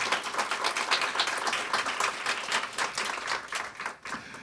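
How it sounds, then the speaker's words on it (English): An audience at a library ceremony applauds in a dense, steady round of clapping, with individual claps audible near and far. The applause runs evenly for about four seconds before thinning slightly at the end. "one more round of applause"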